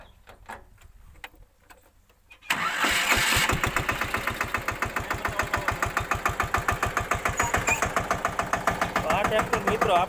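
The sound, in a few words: Massey Ferguson 5118 tractor engine starting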